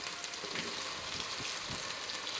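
Tomatoes sautéing with ginger and garlic in a pan for semiya kichadi, a steady dense sizzle and crackle that holds close and loud throughout with no pauses.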